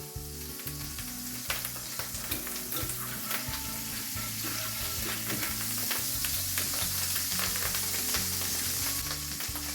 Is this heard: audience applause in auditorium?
no